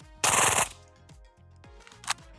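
An MP5 submachine gun firing subsonic rounds, a short loud burst of rapid shots followed by a couple of isolated single shots and mechanical clatter, with no talking.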